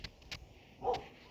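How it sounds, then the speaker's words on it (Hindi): Dogs barking in a residential neighborhood where every house keeps dogs, a few short, distant barks with a louder whimpering yelp near the end, faint overall. "जहाँ भी जा रही हूँ वहीं कुत्ते भौंक रहे हैं।"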